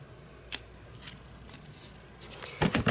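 Scissors cutting and rounding the edges of scrapbooking paper for a junk journal, a few soft snips and paper rustles up close, ending in a denser flurry of cutting and handling.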